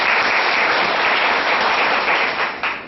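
Loud, sustained applause from an audience at an IT lab inauguration, welcoming the staff with a steady wash of clapping that tapers slightly near the end, with no voices over it.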